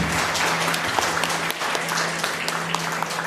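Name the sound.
congregation applause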